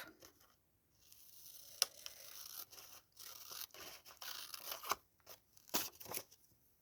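Scissors cut paper for a decorated page, with quiet, close snips and slicing swishes coming in irregular bursts separated by short silences.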